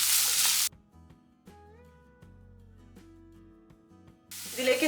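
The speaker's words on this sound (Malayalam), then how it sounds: "ഇനി നല്ലപോലെ ഒന്ന് സോട്ട് ചെയ്തെടുക്കാം" Chopped capsicum and green chillies are sautéed in a pan, making a loud hissing sizzle at the start and end with a quieter musical stretch in between.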